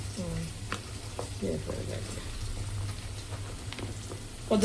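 Ridge gourd pieces added to mutton fry in a pan, giving a steady low sizzle under a constant hum, with a few brief clinks and a voice speaking briefly.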